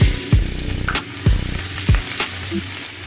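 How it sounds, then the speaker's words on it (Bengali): Chopped onion and panch phoron five-spice tempering sizzle steadily in hot oil, with several sharp scraping stirs of a spoon against the pan punctuating the continuous close frying hiss. "পেঁয়াজটাকে ভালো করে ভেজে নেব।"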